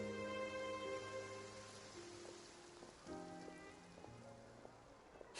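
Rain falls steadily in the Genshin Impact game world, a soft continuous hiss beneath sustained music tones that carries on without pause.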